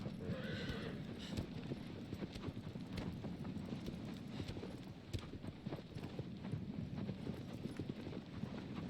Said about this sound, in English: as we're riding the horse here